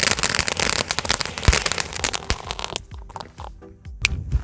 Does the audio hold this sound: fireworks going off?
yes